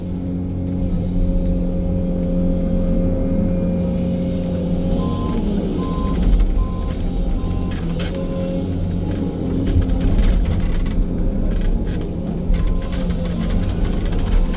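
A Sany 305 excavator loads a truck, a steady heavy diesel rumble and engine drone running throughout with bursts of mechanical clatter and a series of short reversing-style beeps in the middle.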